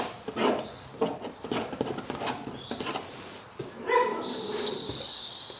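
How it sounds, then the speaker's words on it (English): A dog barks a few times during an oil painting session, the sharp barks audible amid brush strokes, ending with a sustained high whistle-like tone. "there's a dog"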